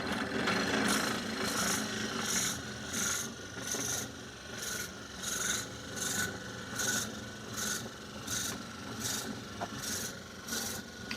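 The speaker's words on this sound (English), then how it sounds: "I'm going to slow down the lathe a bit." Crabapple wood spinning on a wood lathe, a steady rasping scrape of the cutting tool pulsing in regular strokes about twice a second, fairly close and continuous without talk.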